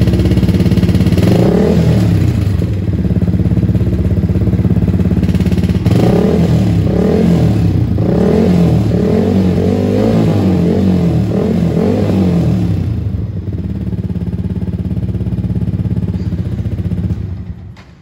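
A motorcycle fitted with an upgraded exhaust and a dB killer revs loudly and close up, with a steady throaty idle broken by repeated bursts of throttle, then settling and fading at the end.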